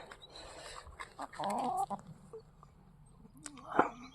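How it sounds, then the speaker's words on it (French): Hens in a garden cluck softly and intermittently nearby, with a few short calls and a sharper cluck near the end, faint and unhurried. "On dit bonjour aux poupoules aussi."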